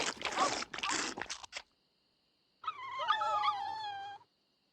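Sleeping dogs in The Secret of Monkey Island give off a cartoonish snoring, whimpering sound, heard alone in a short wavering burst after a stretch of breathy noise and silence.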